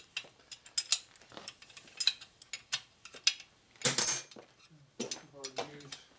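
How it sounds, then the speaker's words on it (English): An unmodified wrench scrapes and clicks against the head bolts of a Harley shovelhead/panhead top end, giving a series of close metallic rubs, ratcheting clicks and clanks, with someone speaking between them. "I'm using an unmodified wrench. That's why it's being a pain. It rubs on every one."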